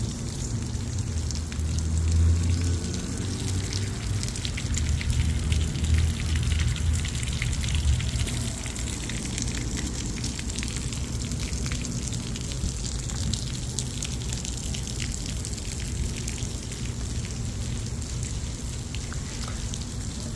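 Water-play buckets at a hotel pool tip and dump water in a steady rushing splash, with a heavier gush early on that settles into continuous pouring and spattering close by.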